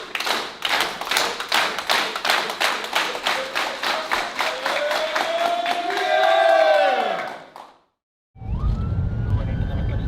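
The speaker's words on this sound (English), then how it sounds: "Clap it up if you're still here." A crowd in Liberty City claps in unison, a steady rhythmic series of loud, sharp claps, then a rising roar of cheering voices that cuts off abruptly before a voice resumes.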